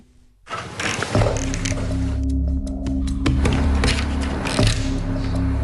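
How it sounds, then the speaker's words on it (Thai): A safe's lock mechanism gives irregular mechanical clicks and ratcheting up close, over a steady low hum. "พวกคุณได้ยินเสียงคลิกด้านบนนี้ได้เลยใช่ไหม"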